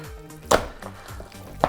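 Minced meat for egg-stuffed zrazy is slapped down to compact it, giving two sharp, close thuds with a faint softer slap between them and no talk.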